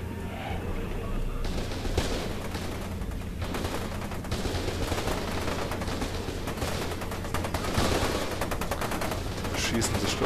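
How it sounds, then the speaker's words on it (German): Sustained gunfire in the shooter game F.E.A.R. 2, bursts of automatic weapons and rapid shots crackling continuously across the scene, loud and dense, with a voice talking over it at times. "Schießen sich doch schon wieder"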